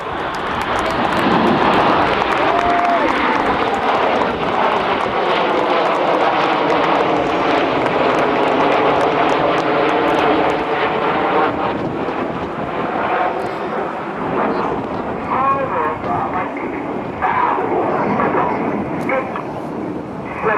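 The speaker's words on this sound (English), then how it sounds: "So at the end of that fantastic Lancaster roll, the aircraft only 6 to 8 feet apart" Red Arrows jets of the Royal Air Force flying a tight Lancaster roll formation at an air show, a loud broad roar of jet engines sweeping past and slowly fading, with crowd noise and a dog barking nearby.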